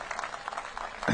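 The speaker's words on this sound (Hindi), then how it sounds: "मैं चाहूंगा एक बार जोरदार तालियां बजाकर आप सब लोग स्वागत करें" Audience clapping in welcome of the chief guest at an inauguration ceremony in Haridwar, a steady patter of many hands that swells near the end.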